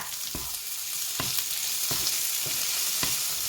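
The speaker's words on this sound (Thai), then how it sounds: "ผัดแห้งๆแล้วพี่น้องจ้า" Potatoes being stir-fried with seasoning and a little sugar in a hot pan give a steady loud sizzle, with a utensil scraping the pan in several sharp strokes about once a second.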